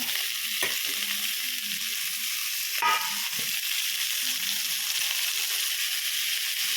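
Green chillies and tomatoes sizzle in hot oil for Nati-style mutton sambar, a loud, steady frying hiss with occasional stirring scrapes and taps of a spoon against the pan.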